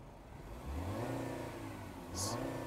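A 2017 Peugeot 3008 engine revs in sport mode, a moderately loud mid-pitched rise and fall heard up close from inside the car, with a short high chirp near the end.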